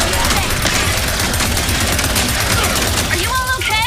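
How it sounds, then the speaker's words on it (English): Rapid sustained gunfire during a Ratchet & Clank: Rift Apart cutscene, a loud continuous volley of weapon shots with some overlapping sound effects and music, with a few faint tonal chirps at the end. "Keep firing at the monitors."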